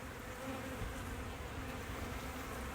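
Honeybees from a freshly installed package hum in a dense, steady buzz that holds close and even from start to finish, with no voices over it.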